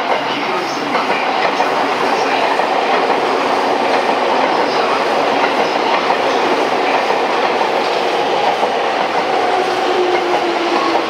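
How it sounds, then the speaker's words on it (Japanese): A commuter train arriving at a station rumbles loudly and continuously with a clattering, rushing noise, wheels faintly squealing, a steady roar that lingers throughout without any clear speech. "快速川越行きが参ります"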